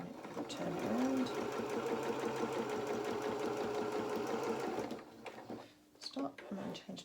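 A sewing machine hums steadily as it stitches a baby bib, a close, continuous mechanical whir that stops near the end, followed by a few small handling knocks while a person talks.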